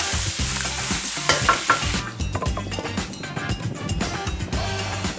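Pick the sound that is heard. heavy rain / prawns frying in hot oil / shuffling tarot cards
prawns frying in hot oil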